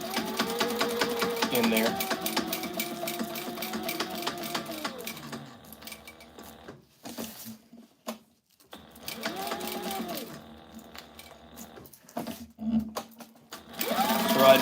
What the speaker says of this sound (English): So right now I'm just sewing in the Velcro, and this is the Velcro closure.